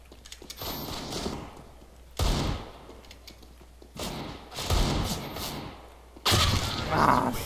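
Desert Eagle pistol shots in the video game CS:GO, several sharp, heavy blasts spaced out over a few seconds, each punchy and loud with brief gaps of quieter game ambience between them.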